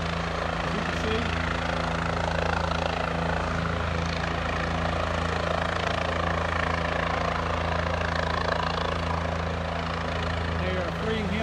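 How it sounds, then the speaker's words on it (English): A rescue helicopter at an ATV crash scene gives a constant loud rotor and turbine roar, close and steady throughout, with no other clear sounds over it. "You can hear the roar of the helicopter"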